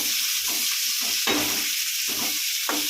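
Onions with ginger, garlic and curry leaves sizzle loudly in a pan for a fish curry, a bright continuous hiss punctuated by four or five stirring strokes, with no voices.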